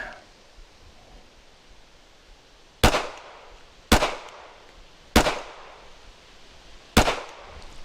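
Handgun shots fired during shooting practice: four sharp, loud, close reports at uneven intervals, each cracking out and decaying quickly over a quiet outdoor background, with no talking.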